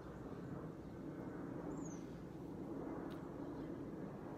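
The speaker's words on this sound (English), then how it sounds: "Excuse the airplane that wants to go past as I'm recording my video." A distant airplane passing overhead gives a faint, steady low roar that holds evenly for a few seconds, with no voices.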